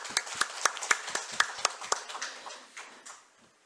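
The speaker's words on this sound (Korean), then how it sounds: "우리 격려 박수 하겠습니다." A church congregation gives a short burst of encouraging applause, a dozen or so sharp claps in an uneven rhythm that thin out and fade within a few seconds, fairly quiet in the room.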